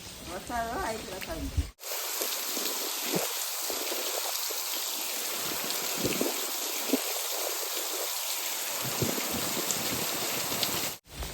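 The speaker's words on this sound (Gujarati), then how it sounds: "આવ્યો કેવો વરસાદ આવ્યો" A heavy monsoon downpour, close and constant hiss of rain pouring on surfaces, with a brief voice at the start before the steady wash takes over.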